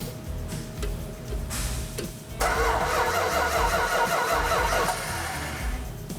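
An old car engine cranks with a rhythmic ticking, then catches and roars to life, running loud and rough before settling slightly.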